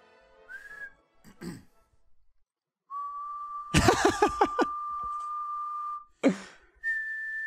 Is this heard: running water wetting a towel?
no